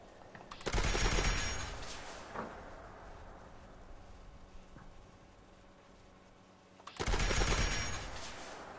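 Automatic gunfire in the video game Fallout 76 rattles out in two loud bursts about six seconds apart, with a single sharp shot between them over a low background.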